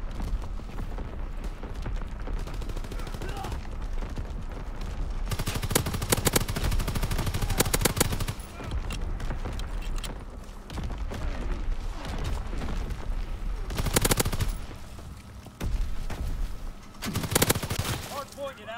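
Bursts of automatic gunfire from an overpowered weapon in Call of Duty WW2 multiplayer, long loud volleys rattling in waves with explosions and battle chatter, while a voice talks over them.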